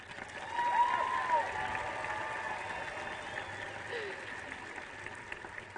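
A large crowd at a high school graduation ceremony applauds the graduates with steady, sustained clapping, moderately distant and even throughout, with faint crowd murmur underneath.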